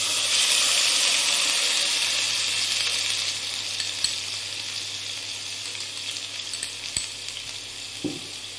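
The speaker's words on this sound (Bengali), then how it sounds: "পেঁয়াজের কাঁচা গন্ধটা চলে যাওয়া অবধি আমরা পেঁয়াজ বাটাটাকে ভাজবো।" Onion paste frying in hot oil for a Bengali malai katla fish curry, after whole cloves, cardamom, cinnamon and a dried chilli. A steady, close sizzle runs throughout with occasional stirring clinks, easing slightly in the second half.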